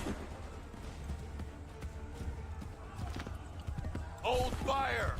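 Horse hooves clip-clop in Assassin's Creed 3 as a steady patter under a dense game soundscape, and voices rise near the end.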